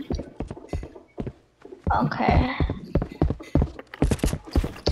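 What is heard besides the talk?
footsteps in Fortnite video game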